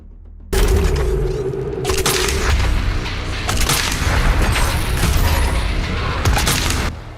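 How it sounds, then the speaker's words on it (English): Doom Eternal combat with headshot pops and explosions: a sudden heavy boom opens a loud, dense run of gunfire cracks and blasts, with sharp impacts stacking up before the din cuts off. "Headshot pops and explosions."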